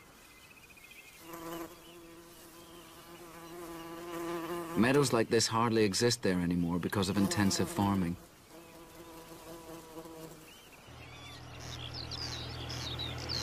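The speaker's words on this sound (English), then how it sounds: "hums with rare bees like the moss carder and the great yellow bumblebee" Moss carder and great yellow bumblebees hum and buzz steadily in an open Scottish meadow, with a voice talking over the humming for a few seconds in the middle.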